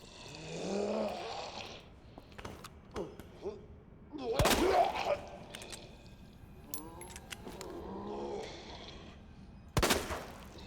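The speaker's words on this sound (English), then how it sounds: "I'm shooting you in the back of the head repeatedly" Gunshots in Resident Evil 2 during a Claire campaign fight, a few sharp isolated cracks spread among creature growls and other game noises, with one loud shot midway and another near the end.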